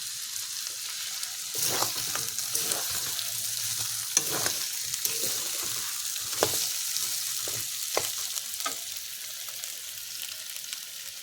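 Meat being sautéed in hot oil with slit green chillies: a steady, close sizzle runs throughout, with repeated scraping stir strokes rising above it.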